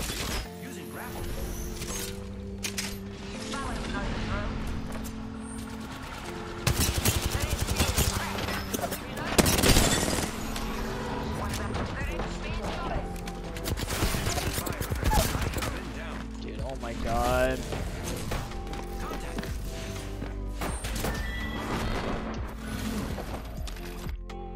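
Gunfire crackles in rapid bursts through a dense Apex Legends firefight, layered with clanking mechanical clicks and other game effects at steady, fairly loud level, with a voice talking intermittently over the action.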